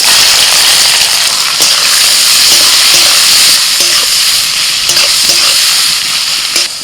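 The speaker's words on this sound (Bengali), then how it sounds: "এবার দিয়ে দিচ্ছি পেঁয়াজ কুচি" Chopped onion hitting hot oil and caramelized sugar in a pan, a loud, continuous close sizzle with scattered crackles and pops throughout, no voices.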